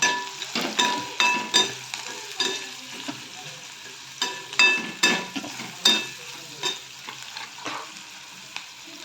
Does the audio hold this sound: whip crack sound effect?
no